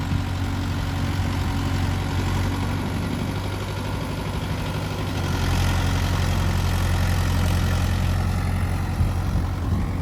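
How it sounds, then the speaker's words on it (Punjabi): A four-cylinder Mahindra tractor engine idles steadily with a deep low rumble, loud and close, holding an even throb for the full stretch with no talk. "ਮਹਿੰਦਰਾ ਦੇ ਪਾਸ ਵਾਲੇ ਧੂਹਾਂ ਨਹੀਂ ਮਾਰਦੇ ਪਤਾ ਨਹੀਂ ਚਾਰ ਸਿਲੰਡਰ ਟਰੈਕਟਰ ਹੈ"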